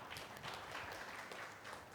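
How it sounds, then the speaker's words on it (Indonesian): A church congregation at a Sunday service applauds in praise, a faint, steady wash of many hands clapping heard from a distance for a couple of seconds. "Tepuk tangan dulu untuk Tuhan"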